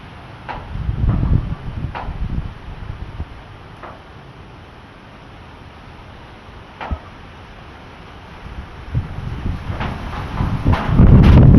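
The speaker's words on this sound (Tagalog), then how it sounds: "Ang lakas ng hangin, guys." Gusty wind buffets the microphone in bursts, with rumbling surges at the start and end and scattered clicks and rattles between calmer stretches.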